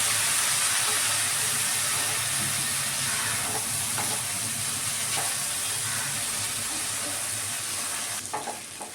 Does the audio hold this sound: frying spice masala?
yes